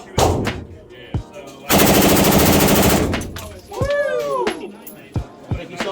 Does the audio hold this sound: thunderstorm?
no